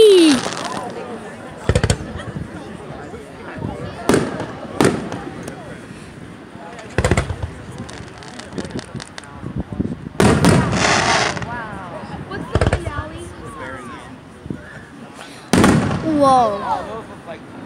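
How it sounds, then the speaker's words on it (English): Missile fireworks burst in a series of loud, sharp explosions spread across the stretch, some with crackling tails, while people react and talk between the blasts. "Missile!"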